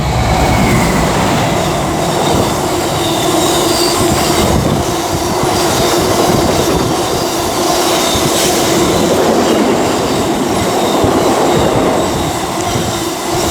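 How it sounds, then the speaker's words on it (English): A diesel freight train rumbles past close by at Tamworth on the West Coast Main Line, loud and continuous, with wheels clattering over rail joints and occasional metallic squeals. "Wow, these are very underrated trains."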